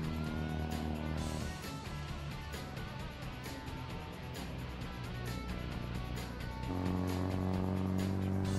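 A car driving through the English countryside in the Assetto Corsa racing game, with a steady engine drone and road noise throughout and a shift in engine pitch near the end.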